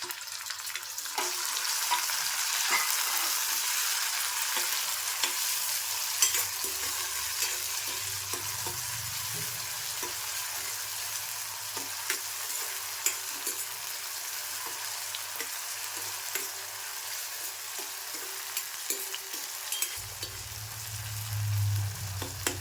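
Chopped tomatoes hit well-browned fried onions in a pan, giving a steady broad sizzle that runs throughout, with occasional stirring scrapes and a low rumble near the end.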